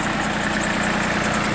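A Shibaura P15F compact 15-horsepower Japanese mini tractor fitted with a rotary tiller idles steadily, giving a continuous even engine drone with no pauses or revving and no voices.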